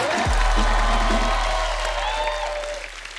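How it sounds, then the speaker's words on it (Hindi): A studio audience on a comedy talk show claps and cheers, a dense wash of applause that fades slightly toward the end, with a low musical tone and a brief voice underneath. "तालियां जोरदार होनी चाहिए।"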